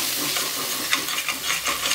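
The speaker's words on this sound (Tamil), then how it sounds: "இதல நாம இப்ப நல்லா கலந்து விட்டுடலாம்" Chili powder is stirred into a sizzling chickpea biryani masala in a hot pan, a continuous close frying hiss with soft scraping strokes of the spoon through the mixture.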